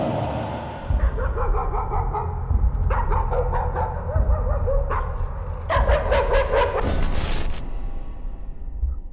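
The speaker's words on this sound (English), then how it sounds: "Oh, you're an actual dog." A dog in the horror game Layers of Fear barking repeatedly up close, with loud yapping bursts and some whimpering yips over a low rumbling background, ending with a brief bright noise.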